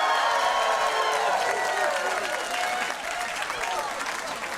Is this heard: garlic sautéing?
no